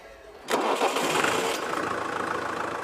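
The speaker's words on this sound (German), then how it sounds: "lädt den Motor von der Pumpe an" A water pump's motor starts up on a farm in Flühli, Switzerland, a sudden loud catch followed by a steady, rough running drone with no talk.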